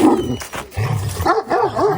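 A dog barks several times up close, loud and a bit ragged, with short whimpering, yelping calls between the barks.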